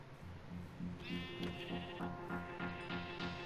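A Minecraft sheep bleats in the video game, a few wavering, nasal calls repeating close by over faint background sound, with no talking.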